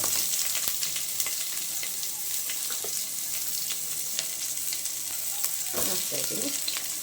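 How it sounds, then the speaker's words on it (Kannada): Onions frying in hot oil after green chillies in a home kitchen, a steady close sizzle broken by clicks and scrapes of stirring, with a brief spoken phrase. "ಈರುಳ್ಳಿನ ಎಣ್ಣೆ ಒಳಗಡೆ ಫ್ರೈ ಮಾಡ್ಕೊಳ್ಳೋಣ"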